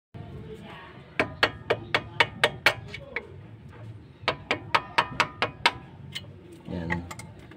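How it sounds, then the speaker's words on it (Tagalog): A hammer strikes a flat screwdriver to loosen a part of a McPherson strut assembly, two quick runs of sharp metallic taps in steady rhythm, close and crisp, with faint low murmuring between and after. "Pinupukpuk ko lang ng flat screw, saka martilyo."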